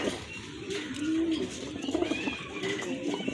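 Pigeons coo steadily in a loft where orange-coloured pairs are kept for sale, soft repeated calls layered with faint background murmur.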